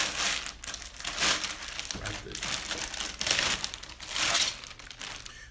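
Packaging around a glass lamp shade for a torchiere floor lamp is cut open with a knife, giving bursts of loud crinkling, crumpling and tearing that rise and fall irregularly, with a voice talking intermittently.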